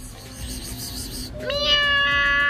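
A large cat meows in an indoor home setting, a clear drawn-out cry rising over a muffled room hum after a quieter stretch.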